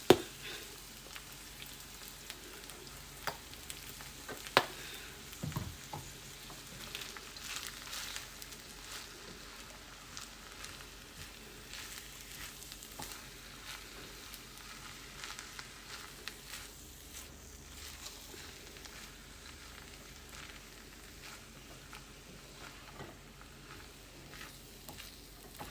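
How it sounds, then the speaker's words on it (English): Rice being tossed and fried in oil in a pan for fried rice, a fairly quiet continuous sizzle with occasional scraping stirs and a few small knocks early on, no talking. "I'm going to just start tossing my rice around. Add a little more oil for my rice."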